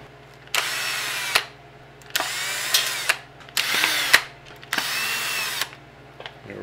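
A power drill backing out screws from the tail of an Aprilia Tuono V4 1100RR motorcycle: four separate close whirring bursts, each about a second long, with short quiet gaps between them.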